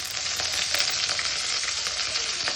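Cloves, pepper and cumin crackle and sizzle in hot oil, a dense, bright frying hiss running continuously up close with occasional sharper pops.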